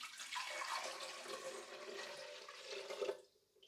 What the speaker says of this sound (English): I'm going to add 1 large cup of water.